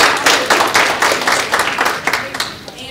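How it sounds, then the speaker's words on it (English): Applause rises at a school staff event honoring the 6th grade team, a run of brisk claps over roughly three seconds, with speech mixed in. "Round of applause."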